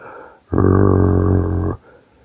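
A dog lets out a single deep, rumbling growl lasting just over a second, loud and close, rising abruptly out of quiet and then stopping.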